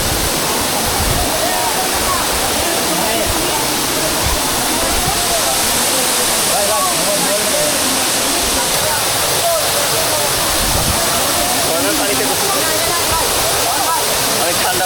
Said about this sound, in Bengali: এখন আমরা এই ঝর্ণাতে গোসল করব